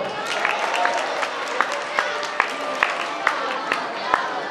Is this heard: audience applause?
yes